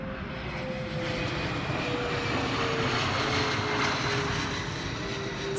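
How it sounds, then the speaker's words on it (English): Steady, distant drone of a propeller airplane flying overhead out in the countryside, a continuous low rumble with a faint engine whine that holds level throughout, with no talking. "here comes an airplane. Can you hear it?"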